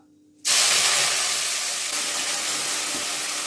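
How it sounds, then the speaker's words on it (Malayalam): A sudden loud sizzle erupts as mint leaves hit hot oil, then settles into a steady, close hiss that continues throughout. "ഇനി നമുക്ക് പുതിനയില ചേർത്ത് വഴറ്റാം."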